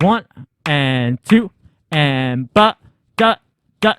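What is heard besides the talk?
No distinct noise like a dog, phone or traffic.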